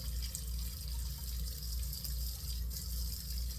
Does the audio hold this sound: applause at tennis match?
no